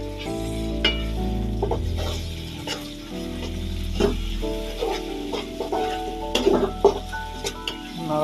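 Chicken gizzards and liver frying in a pan are stirred with a utensil that clinks and scrapes repeatedly against the metal, over a continuous low sizzle.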